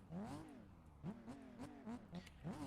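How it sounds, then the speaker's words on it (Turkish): BMW E36 engine in Assetto Corsa, sliding on snow, revving up and down repeatedly with rising and falling pitch sweeps and short gear-change dips, loud and close with no talk over it. "Arabanın sesi sesimi bastırıyor mu?"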